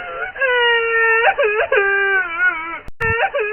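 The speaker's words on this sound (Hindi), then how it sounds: "अचानक हवेली के एक कोने से किसी औरत के रोने की आवाज आने लगी।" A woman's wailing cry echoes through a haunted mansion in a cartoon, long drawn-out moaning sobs rising and falling over several breaths, loud and close with a brief break near the end.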